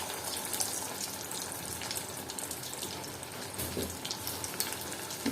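Bread pakora (bread chop) frying in hot oil, a steady dense sizzle and bubbling that holds at an even, moderate level throughout with no voices.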